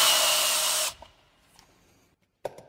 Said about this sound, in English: To clean the hub, it is best to use a wheel hub grinder. Position it like this and give the hub a good cleaning.